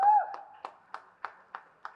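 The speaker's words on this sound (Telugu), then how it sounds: "they deserve a huge round of applause" Applause for a Ganesh festival committee during a laddu auction, a few distinct claps spaced evenly, fairly close, after a short tone.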